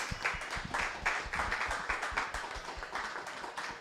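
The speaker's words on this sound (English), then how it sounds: "Let's clap it up for our candidates and moderators" A small audience at a candidates' forum claps for the candidates and moderators, giving a few seconds of brisk, fairly sparse hand claps at moderate volume.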